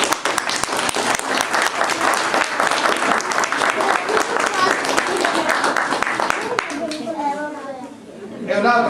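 Congregation in an Italian church breaks into sustained applause, dense clapping filling most of the stretch, then fading as a voice begins speaking near the end.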